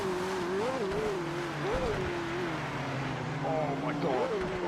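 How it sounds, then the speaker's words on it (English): Car tyres squeal and slide on a soaked track in the racing game PMR while the car drifts with traction control nearly maxed, a wavering tonal whine over steady engine and spray noise, loud and continuous throughout. "You can hear the tyres."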